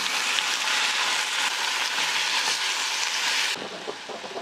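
Boiled vegetables and tomato frying in a small pressure cooker, giving a steady loud hiss and sizzle for several seconds that drops away abruptly, leaving quieter crackles.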